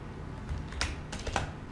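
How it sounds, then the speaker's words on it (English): Keystrokes on a computer keyboard as a command is typed, a few soft taps leading to a couple of sharper, louder presses like hitting enter, close and alone. "Just write this command and hit enter."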